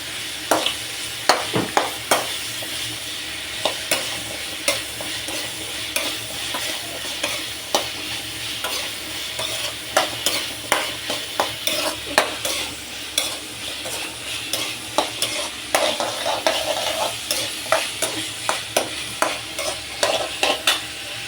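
Mushrooms sauté for gravy as a utensil stirs and scrapes through them in a hot pan, giving repeated close scraping strokes over a soft steady sizzle, with no talking.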